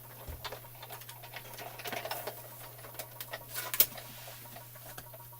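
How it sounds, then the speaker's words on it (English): A paper sheet inside an embossing folder is cranked through a Big Kick machine, a faint run of quiet ticking and crackling clicks over a low steady hum. "Folder going through the big kick on the side,"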